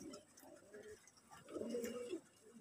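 Pigeon chicks cooing softly at close range, a faint low murmuring coo that swells into a longer rounded call midway through, against quiet room noise.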